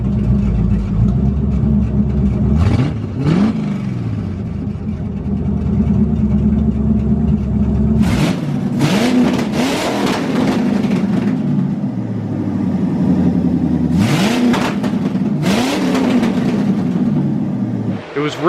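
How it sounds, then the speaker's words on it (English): A C4 Corvette V8 on its old two-port injection setup runs loud and steady, blipped up several times in sharp revs that fall back to a rough, rich idle; a voice is heard under the engine. "I'll play a clip now so you guys can hear it revving before"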